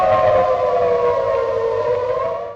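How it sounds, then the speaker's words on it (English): A US Cold War-era electric civil defense siren sounds a steady, loud wailing tone that holds level, then begins to fade at the very end, heard alone. "Civil defense sirens were installed throughout American cities and towns as a crucial element of preparedness against a possible nuclear attack."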